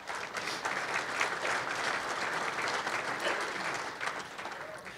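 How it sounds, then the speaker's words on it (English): A big round of applause at a soccer association's annual general meeting, dense steady clapping from an indoor crowd lasting the whole stretch. "big round of applause to the people that step up in these roles"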